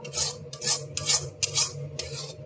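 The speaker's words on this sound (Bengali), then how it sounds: "এটা ভালো করে আমি কষিয়ে নেবো, মানে একদম শুকনো শুকনো করে নেবো।" Ground kharkol leaf paste being stir-fried dry in a pan, a spatula scraping in about five rhythmic strokes over a low background hum, close and clear.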